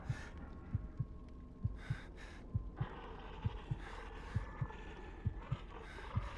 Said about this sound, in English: I like the heartbeat.